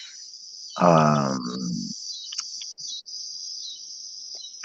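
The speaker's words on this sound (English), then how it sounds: "There's an awful background noise. That's the cicadas." Cicadas fill the outdoor background with a continuous, high, even buzz that runs from start to finish, while a person briefly makes a hesitant vocal sound near the start.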